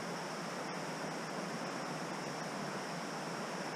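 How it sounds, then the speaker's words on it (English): A brook on Dartmoor flows into a river in winter, making a steady, even rushing hiss with no breaks. "There's a brook that runs down into it."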